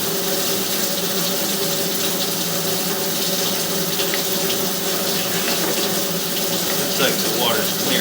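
Water rushes steadily through a drain line being flushed, a constant loud hissing flow with no pauses, close to the listener.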